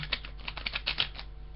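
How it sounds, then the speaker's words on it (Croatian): A deck of playing cards is shuffled close by, giving a quick run of soft, crisp ticking flutters that lasts just over a second. "Znači, pomiješat ćemo karte. Pošten shuffle."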